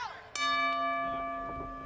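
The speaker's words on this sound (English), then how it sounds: "Referee Becky Phillips sounds for the bell." A wrestling match bell, rung by the referee at the start of a tag-team bout, strikes once sharply and then rings on with a long, bright, slowly fading tone, over faint crowd murmur.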